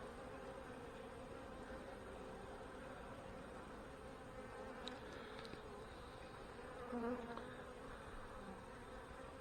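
Honey bees buzzing around an open hive during an inspection, a steady dense drone lasting throughout, close and soft with no talking.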